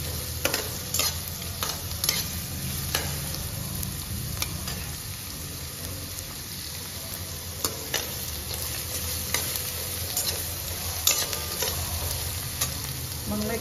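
Onion sautéing in a pan for spicy sukka chicken, a steady close sizzle and frying hiss with frequent sharp spatula taps and scrapes against the pan, continuous and without talk.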